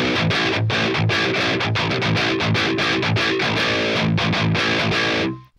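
A baritone guitar plays tight, chugging distorted riffs through a PolyChrome DSP McRocklin drive pedal with the Attack control cranked. The playing is loud and continuous, then stops abruptly and rings out at the end.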